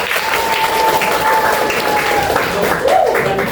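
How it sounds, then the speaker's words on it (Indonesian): Classroom applause from students at an Indonesian school lesson, a dense steady patter of many hands filling the room, with a teacher's voice and a faint tone running beneath it. "Tepuk tangan buat dia, Mas."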